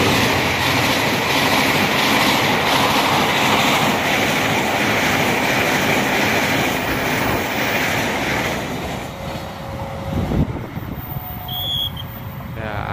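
An Argo Dwipangga passenger train rumbles past steadily with a broad roaring wash of wheels and rails, gradually easing off near the end, with a faint horn tone.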